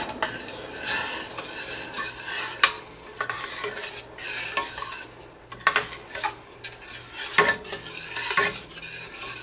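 Parsley flakes being stirred into a meatball sauce in a pot, with a spoon scraping and clinking against the sides in repeated close strokes over a soft simmer, with no talking.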